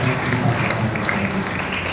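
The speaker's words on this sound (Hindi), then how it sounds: "ताली मारो।" A church congregation claps together during a lively Sunday worship service, a steady wash of applause filling the whole moment with voices mixed underneath.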